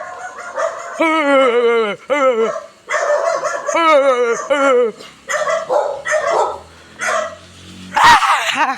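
A dog barks repeatedly and loudly nearby, sharp yelping barks in quick runs, with people talking over and between them.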